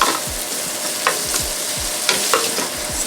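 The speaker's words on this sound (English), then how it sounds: "First thing we're going to do is cook our shrimp real quick." Small bite-sized shrimp pieces fry in hot oil for fried rice with Chinese sausage, a loud steady sizzle broken by repeated close stirring and spatula scrapes.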